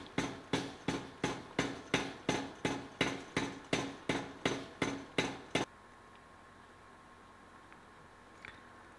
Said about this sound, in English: still using the power hammer, start forging out the tenon